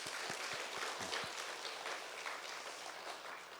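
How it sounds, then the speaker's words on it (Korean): A church congregation at Hyeonpung Central Church applauds steadily after a catechumen's admission is proclaimed, with dense, sustained clapping filling the room and a few low thumps near the start. "자, 이제 한번 박수 한번."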